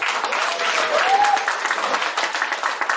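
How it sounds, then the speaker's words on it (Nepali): An audience at a Nepalese cultural and musical evening in Oslo claps loudly and continuously, dense applause filling the room, with a faint voice briefly audible within it. "उहाँको लागि जोरदार ताली दिनुहोस्"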